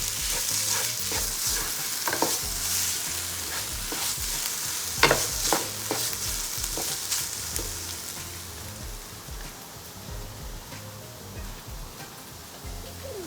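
Onions browned to light golden frying with two tablespoons of ginger-garlic paste, a steady loud sizzle with scraping stirs and occasional sharp clicks of a spoon against the pan, no talking.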